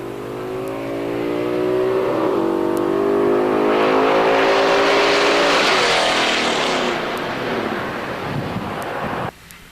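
Purple 1970 Hemi Challenger launches on a drag strip, its engine note climbing hard through the gears as it pulls away, loud and close with heavy wind buffeting, cutting off abruptly near the end.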